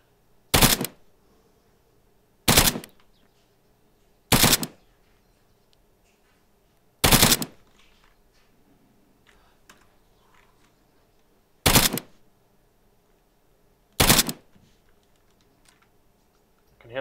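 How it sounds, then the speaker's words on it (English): Gunfire in the ARMA 3 video game: six sharp, loud single shots spaced a couple of seconds apart, each a sudden broadband crack with a short tail, over a quiet low ambient hum. "Can hear them shots."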